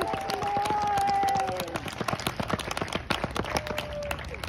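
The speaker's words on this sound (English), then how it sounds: "Please give them all a round of applause." Audience applause at a fifth grade promotion ceremony, many separate claps in a brisk, scattered rhythm, with voices and a short sustained tone heard near the start.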